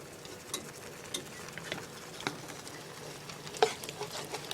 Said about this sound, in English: And then while the pasta's boiling, I'll be stirring this.